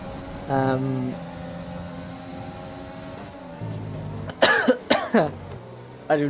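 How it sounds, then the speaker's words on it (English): A few sharp, close coughs from a podcast host, clustered near the end after stretches of low talking voices, with steady background hum underneath. "If I start coughing again during this stream"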